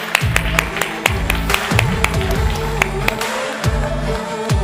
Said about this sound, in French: On peut les applaudir, on les applaudit fort.